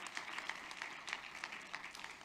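An audience at an authors' conference session claps in a brief, moderate round of scattered applause, heard from a short distance with no talk over it.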